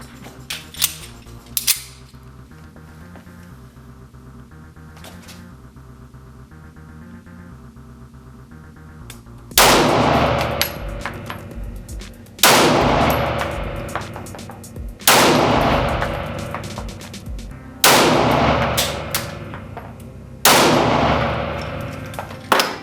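Ruger SR9C pistol trigger and action, a few quiet clicks at first, then five loud sharp metallic snaps at regular intervals, each ringing briefly before the next.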